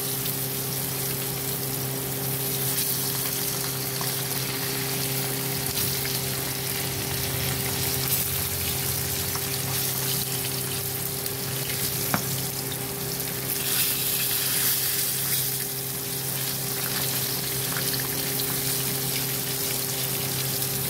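Pointed gourd, cooked with its skin on, fries in hot oil with a steady, close hiss and crackle that runs continuously, accompanied by a faint low hum.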